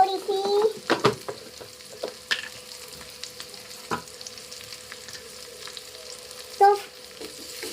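Whole dried red chillies and fennel seeds sizzle in hot oil in a home kitchen, a close crackling fry with clinks and scrapes of a spoon against the pan.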